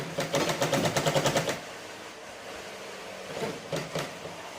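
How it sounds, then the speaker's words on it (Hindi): A sewing machine runs a straight seam on a forex blouse in a fast, loud, even burst of stitching for about two seconds, then stops, followed by a shorter, quieter run of stitches near the end. "अब ये सीधी सिलाई मैं कर रही हूँ यहाँ पे ऐसे।"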